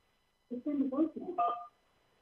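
A short burst of telephone keypad tones as a caller presses 1 to accept an incoming call to a live studio line, several quick clear beeps in a row with no talk over them.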